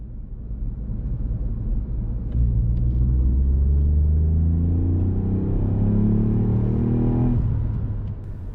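A car engine pulls hard in third gear, its rumbling tone climbing steadily in pitch over several seconds before easing off, loud and close with no talk over it.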